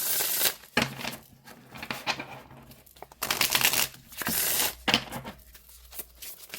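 Repeated bursts of papery rustling and flicking as an oracle card deck is shuffled up close, coming in uneven waves with brief pauses between.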